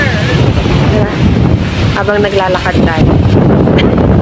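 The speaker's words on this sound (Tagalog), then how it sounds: "Grabe, sobrang hangin." Heavy wind rumbles across the microphone throughout, outdoors in cold weather in Münster, Germany, loud and steady, while a person speaks briefly underneath the gusts.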